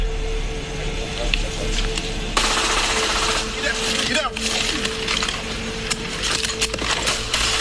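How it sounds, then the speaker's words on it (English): Automatic weapon fire aimed at the driver's side of a police vehicle, captured on police body camera in Texas: rapid bursts of sharp reports and rattling noise, loud and close, mixed with jumbled background sound. "the suspect opened fire into the driver's side of the police vehicle with an automatic weapon"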